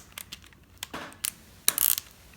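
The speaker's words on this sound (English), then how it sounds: "Then you just take your ratchet. Make sure it's on tightening." A hand ratchet clicks as it tightens a part on a baitcasting reel during cleaning, giving short bursts of close, sharp metallic clicks with brief pauses between them and no talk.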